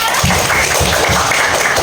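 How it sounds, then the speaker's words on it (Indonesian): Classroom of students clapping for a classmate who gave a good answer, close and loud, with rhythmic thumping beats running under the applause. "Tepuk tangannya Mbak Apipa"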